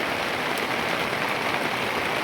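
Heavy rain pours down steadily in a dense, even hiss that fills the whole stretch, close and loud, with no voices over it.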